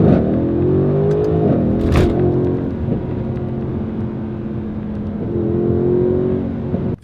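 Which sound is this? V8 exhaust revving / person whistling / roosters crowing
V8 exhaust revving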